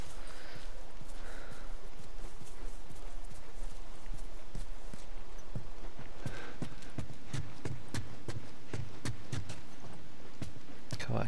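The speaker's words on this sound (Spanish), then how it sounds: "Caballos y jinetes, quizás indios." Horse hooves clip-clopping in The Last of Us. Steady, rhythmic hoof strikes build from sparse to dense, close and clear, over a constant background ambience.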